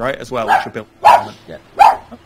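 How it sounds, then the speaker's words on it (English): A dog barks a few sharp times beneath and between ongoing conversation, the barks coming as short separate bursts during a casual talk. "my girlfriend's dog"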